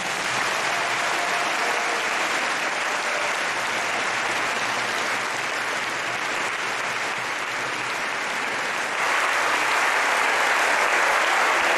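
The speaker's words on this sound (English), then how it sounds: "give a thunderous round of applause, which will continue for 1 minute at least" Sustained, dense applause from a large audience at an International Day of Peace gathering, a standing ovation that rolls on steadily for the whole stretch and swells slightly louder near the end, with no talking over it.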